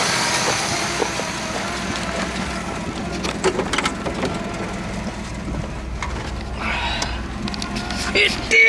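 An abandoned 1966 Chevy Biscayne's big-block engine runs with a steady, rough mechanical churn and scattered ticks and clatter, while excited voices break in over it.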